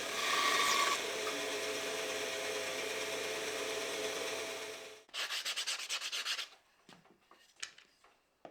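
Wood parts of a DIY naguri-pattern router jig being sanded to soften hard edges: a steady broadband scraping rasp for several seconds, then a burst of quick rhythmic back-and-forth strokes and a few scattered rubs, close and fairly loud, no voices.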